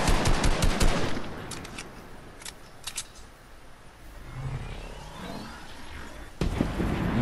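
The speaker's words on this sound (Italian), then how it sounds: "Sta sparando un altro tizio." Another player fires at close range in Fortnite: a quick opening burst of automatic shots, then scattered single cracks and a lull, ending with one more sharp shot.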